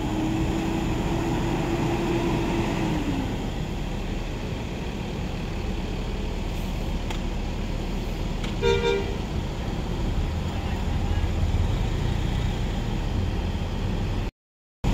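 Blue-and-black Haryanto bus number 237 with wayang livery pulling out, a low diesel rumble with a brief engine whine early on and a short horn toot midway, moderately distant against steady background noise.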